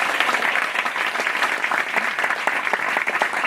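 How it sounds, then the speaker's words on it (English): An audience gives a storyteller a warm round of applause, a steady and fairly loud wash of many hands clapping together with no talking over it. "please give a huge warm round of applause for Marta Hernandez"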